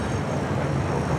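A jet airplane on its takeoff roll at LAX on runway 25 right, heard as a steady, distant rumbling roar with a broad hiss and no clear change across the short stretch.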